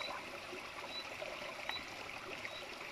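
Water runs steadily into a container while preparing a garden treatment mix, a continuous close trickling and splashing with no pauses.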